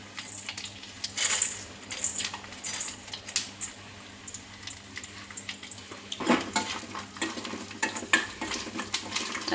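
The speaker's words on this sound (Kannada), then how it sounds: "ನೆಕ್ಸ್ಟು ಉದ್ದಿನಬೇಳೆ, ಕಡಲೆಬೇಳೆ ಎರಡೂ ಹಾಕ್ಕೊಳ್ತಾ ಇದ್ದೀನಿ." Urad dal and chana dal are tipped into a hot pan of oil for a South Indian tempering, giving a run of light rattling, sizzling crackles and stirring scrapes, close and fairly quiet, with no voices.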